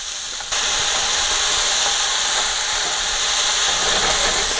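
Meat and vegetables sautéing in a pan until browned, a steady close hiss and sizzle that continues throughout, rising after a brief quieter start.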